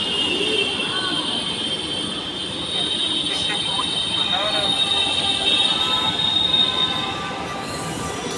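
A metro train pulls into a station with loud, sustained wheel squeal and rolling rail noise throughout, while people's voices are faintly audible in the background.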